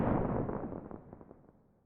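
Layered firework-into-explosion sound design, combining a reflection layer with crackles: a loud, dense boom that rolls off into a long natural decay, with scattered crackling pops fading out over about two seconds.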